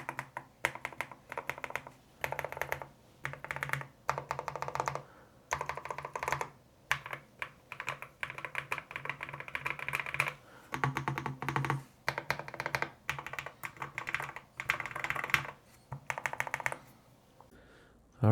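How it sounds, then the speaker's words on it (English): Mechanical keyboard keys on a NuPhy Kick75 clack in bursts of rapid presses separated by short pauses, close and crisp throughout. "pressing some of the different keys so you can hear the stab noises"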